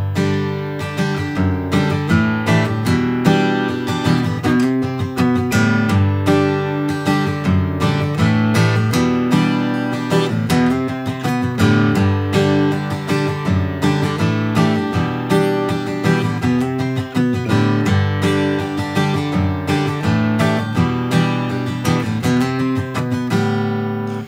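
Guitar strumming the chord progression of a song, a steady rhythmic pattern of full chords played loud and close throughout, with no voices.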